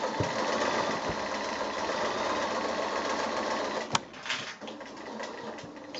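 Sewing machine stitching a quilted hexagon mug mat, a steady close whirring run that carries on throughout, with a brief sharp click near the middle.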